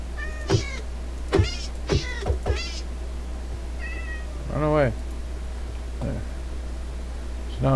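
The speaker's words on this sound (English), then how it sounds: "All these freaking cats, man." Several Minecraft cats meowing in a castle, a string of short, high mews spaced a second or so apart, with a longer drawn-out wail near the middle, over a constant low hum, no talk.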